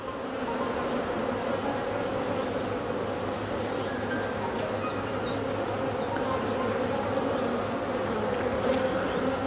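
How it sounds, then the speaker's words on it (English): Honey bees buzz steadily around a newly marked queen on the comb, a dense continuous hum that stays close and even throughout, with no talking. "The bees are up and down to her now."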